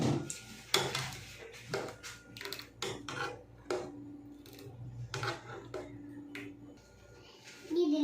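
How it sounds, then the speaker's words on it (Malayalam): Payasam, milk with sugar just added, is stirred in a pot, with scattered scraping and clinking of a spoon against metal and a person talking between the strokes. "ഇനി ഇതിലേക്ക് പഞ്ചസാര ഇടണം ഇനി ഇളക്കി കൊടുക്കണം"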